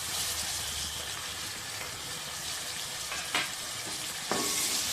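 Finely chopped medium tomato frying in a pan for Rayalaseema-style borugulu upma sizzles steadily and loudly, with two brief clinks or stirring knocks near the end.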